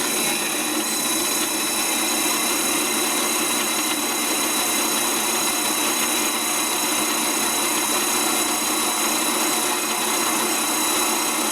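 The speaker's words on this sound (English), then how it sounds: "We're drilling that for 3/8/16 bolts." Steady, loud drilling of bolt holes through channel iron for a tractor frame being fitted with a two-cylinder liquid-cooled Honda engine, a continuous broadband whine and grind running the whole time without pause or talk.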